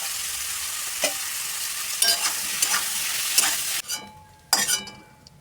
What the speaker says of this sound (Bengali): মাশরুমটা ছেড়ে দেবো, তেল গরম হয়ে গেছে, একটু ভেজে নেবো ভালো করে।